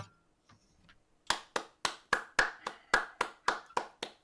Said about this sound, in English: I know it's only one person clapping